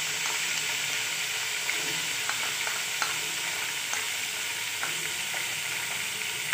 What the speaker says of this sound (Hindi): मैं इसके अंदर लहसुन अदरक का पेस्ट डाल रही हूँ